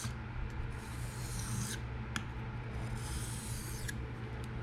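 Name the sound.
freehand sharpening Kunwu Chad knife with forward passes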